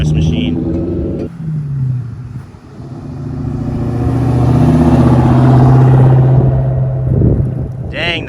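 A New Edge Bullitt Mustang's engine revs and pulls loudly, dipping then building to a sustained roar with a deep burbling tone, with people talking over it.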